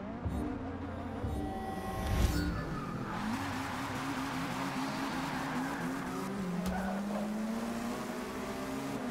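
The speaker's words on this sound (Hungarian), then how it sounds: "És Michelisz Norbert autójával megyünk" Norbert Michelisz's Honda WTCC touring car races in Forza 6 Apex, its engine note rising and falling through gear changes, with a brief tire squeal around one moment, close and steady throughout.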